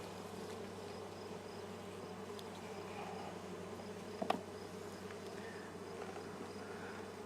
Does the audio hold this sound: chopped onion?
no